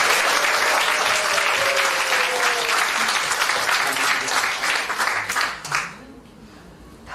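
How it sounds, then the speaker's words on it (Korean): A church congregation claps to welcome a newlywed couple during a Sunday service, a dense, bright wave of applause that holds for several seconds, thins out and stops, with a voice faintly over it. "박수로 환영해 주세요."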